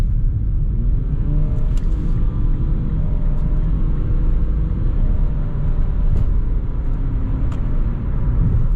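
A 2018 Mitsubishi Outlander Sport's engine drones steadily from inside the cabin, with a constant low road rumble as it pulls onto the road.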